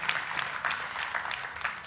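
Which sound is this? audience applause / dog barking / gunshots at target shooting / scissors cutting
audience applause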